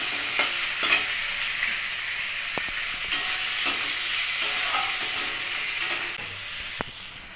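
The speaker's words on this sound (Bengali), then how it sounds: "টমেটোটা আমার ভাজা ভাজা হয়ে গেছে" Chopped tomatoes fry with onion and ginger in a pan, giving a steady close sizzle broken by a few scraping stirs, with no talk.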